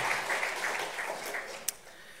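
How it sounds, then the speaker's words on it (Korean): Church congregation applauds in welcome during a Sunday service, a soft, distant patter of clapping that thins out and ends with one sharp click. "박수로 같이 한번 환영하겠습니다"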